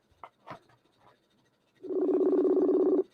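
A phone call rings once on the line, a single steady buzzing ring-back tone lasting about a second after a few faint handling clicks, fairly close and with no talking.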